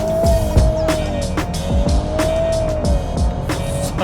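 A VW Golf R Mk8 fitted with a RaceChip accelerates hard in race mode, its engine note rising and dropping through quick gear changes, loud and close, with sharp transient bursts between shifts.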